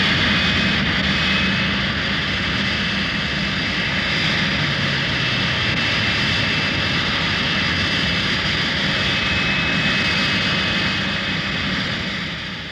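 Hawker Siddeley Trident jet airliner at full power on its takeoff run at Hatfield, a loud, steady roar with a high whine running throughout, easing slightly at the very end.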